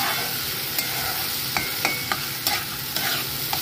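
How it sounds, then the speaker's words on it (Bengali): Mustard-poppy paste cooks in a pan with salt and turmeric, a steady hot sizzle punctuated by a handful of sharp spatula scrapes and taps, close up. "তারপর ভালো করে নুন হলুদ দিয়ে কষাচ্ছি"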